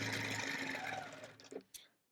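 Sewing machine stitching in the ditch on a Celtic Wedding Ring quilt at 12 stitches per inch: steady, close whirring hum for over a second, then slowing and stopping with a few soft clunks.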